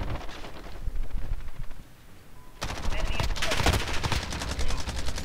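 MP5 submachine gun fire in Call of Duty: Modern Warfare, a loud, close burst of rapid automatic shots erupting after a quieter stretch of ambient game noise and continuing to the end.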